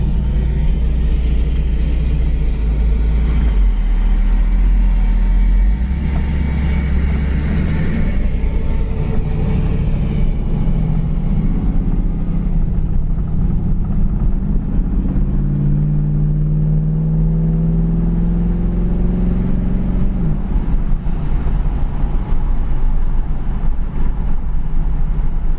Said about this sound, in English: Cruising down the road about 35, 40.